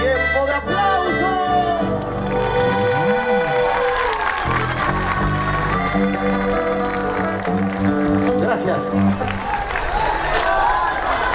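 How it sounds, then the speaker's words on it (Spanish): Audience applause for young chamamé performers at a provincial youth festival, crowd clapping and cheering beneath lingering music and a voice on the sound system, loud and continuous from start to finish. "Y que se escuchen los aplausos bien fuertes para los maestritos del Llámame"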